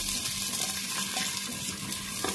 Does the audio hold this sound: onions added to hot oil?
yes